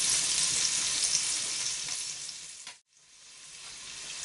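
Food frying in flavoured oil in a pan while making Jägerschnitzel, a dense continuous sizzle close and loud that cuts out briefly then resumes more softly.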